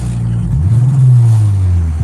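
A Mitsubishi GSR engine being revved during troubleshooting and tuning, a loud low engine note rising and sweeping up in pitch through a rev, then settling, close by with no talk.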